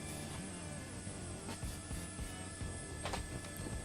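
A brown Airbus H130 or H125 helicopter flies over Chilean Patagonia in Microsoft Flight Simulator 2024, giving a faint, steady engine drone with light background sounds.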